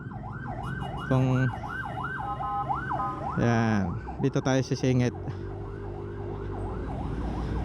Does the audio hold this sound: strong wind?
no